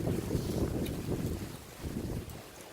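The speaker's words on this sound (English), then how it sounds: "Today is a really strong wind, so sorry about that." Strong outdoor wind buffets a camera microphone in farmland with tractors nearby, producing a continuous low rumbling roar that swells and eases, with no clear talk.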